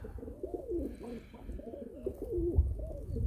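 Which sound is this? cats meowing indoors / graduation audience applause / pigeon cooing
pigeon cooing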